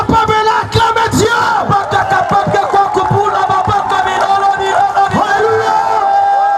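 A large crowd at an evening church gathering shouts and cheers in loud acclaim, a dense, sustained roar of many voices with rising yells throughout.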